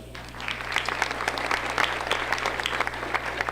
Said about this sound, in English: So I think you should give yourself a round of applause.